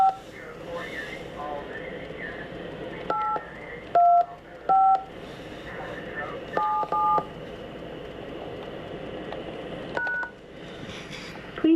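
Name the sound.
telephone keypad tones entering an access code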